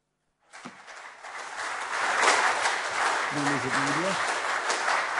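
An audience applauds after an academic talk: steady, broad clapping starting abruptly and holding at moderate loudness, with a brief voice murmuring beneath it.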